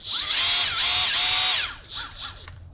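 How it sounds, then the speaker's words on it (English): A Milwaukee M12 cordless die grinder whines at high pitch for about a second and a half, its tone wavering as it is throttled, then drops to quieter intermittent spin-ups and a fading run-down, close by with no talk. "I also got a M12 Die Grinder"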